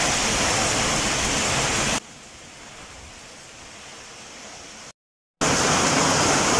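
Heavy typhoon rain falls as a loud, even hiss, dropping to a softer, duller wash for a few seconds, cutting out briefly to silence, then returning at full strength.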